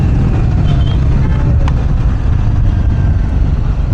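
A Triumph Scrambler 400 X motorcycle pulls hard in fourth gear, its engine giving a dense, loud, continuous low drone that stays strong and steady from start to finish.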